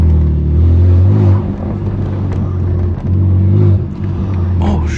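BMW F80 M3 Competition with a loud straight pipe exhaust on a city drive, heard from inside as a steady, heavy droning rumble that swells and dips with throttle, close and continuous throughout.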